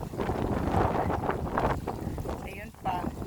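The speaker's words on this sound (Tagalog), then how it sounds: "Medyo malakas ang hangin." Strong wind on a farm buffets the microphone in a steady low roar, with a voice speaking intermittently underneath.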